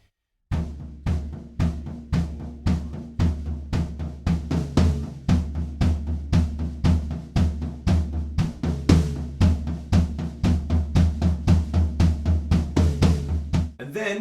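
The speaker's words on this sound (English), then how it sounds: "So we've got kicks playing the quarter notes, the floor toms helping to build that up" A drum kit builds through a pop-rock groove: steady quarter-note kicks, floor toms thickening the pulse and extra toms filling in, with cymbals crashing throughout, loud and close.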